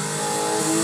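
A brief, loud burst of a Nissan GT-R engine revving high in the video game Need for Speed Heat, steady and close, with no voices.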